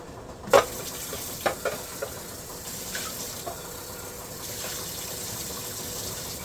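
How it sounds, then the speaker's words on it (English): A plastic container is rinsed under running water: a few knocks and splashes at first, then a steady soft stream filling and sloshing, with no voices. "I'm going to rinse it out first"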